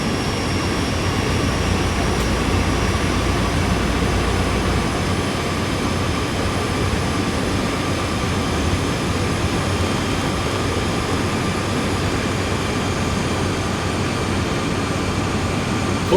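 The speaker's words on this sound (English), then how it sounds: "You can hear the engine winding up." A diesel locomotive engine winds up under load on a long uphill grade out of Cheyenne in the Train Sim World 4 game, a dense, steady roar with a constant droning tone throughout and no talk.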